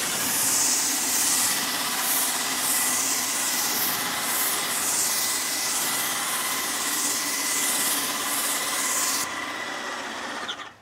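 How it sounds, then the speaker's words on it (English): A Titan Control Max 1900 airless paint sprayer sprays nonstop with a loud, close hiss and a rhythmic pulsing pump throb, then cuts off abruptly near the end, leaving a quieter motor hum. "Even on fire, that pump is really working."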